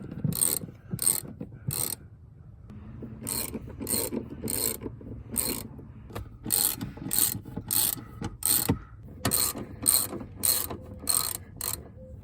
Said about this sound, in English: So now I'm just going to tighten these 4 bolts down.